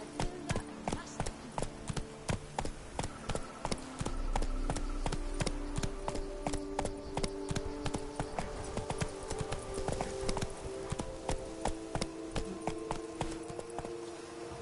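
Roach, a horse in The Witcher video game, gallops with a fast, steady clip-clop of hooves that keeps up its rhythm the whole way, loud and close, with a faint low rumble in places.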